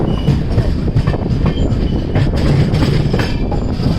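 A long electric passenger train of about 22 coaches rumbles past close by with loud, rhythmic wheel clatter over the rails and occasional high metallic squeals, no voices.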